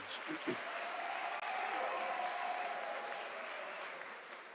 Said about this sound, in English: I want you to give a round of applause to our academics that are sitting on the stage.